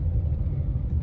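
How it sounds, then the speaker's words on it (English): Interior rumble of a Monte Carlo car on the move, a steady low road-and-engine drone that fills the short moment without any talk. "this car is driving really, really good"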